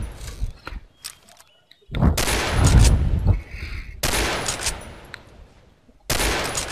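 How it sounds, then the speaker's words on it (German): Sniper rifle shots in the shooter game Combat Arms, a few sharp loud blasts with ringing tails separated by quieter gaps, no talking. "Und da schießt man."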